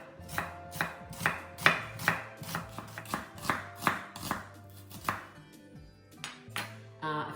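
Purple onions sliced thinly with a kitchen knife on a cutting board for a Greek onion, feta and orange fillo pie filling, a steady run of crisp, close chops in an even rhythm with a brief pause near the end.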